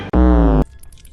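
A crow in the Granny video game gives one loud, harsh caw lasting about half a second, followed by near quiet.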